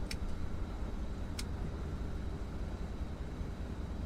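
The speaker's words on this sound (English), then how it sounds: "Now let's start the center engine." The center engine of a Junkers Ju 52 trimotor in Microsoft Flight Simulator starts up, a steady low rumbling drone filling the whole stretch, with a couple of brief high clicks early on and no talking.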